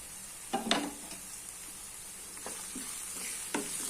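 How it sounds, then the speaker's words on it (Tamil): Tomatoes sauté in a pan for a vegetable biryani, with a quiet, low sizzle and a few brief scrapes of stirring spaced across a few seconds. "தக்காளி பாருங்க நல்லா வதங்கிருச்சு"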